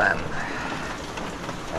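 Rain falling outdoors near a market, a steady soft hiss of drops spread evenly across the moment, fairly quiet and continuous with no speech over it.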